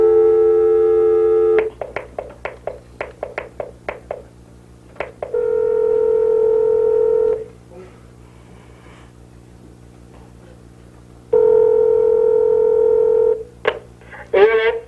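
On a phone-a-friend call during a game show, a sustained dial tone gives way to a quick run of touch-tone dialing beeps, then long steady ringback tones with pauses between, loud and close.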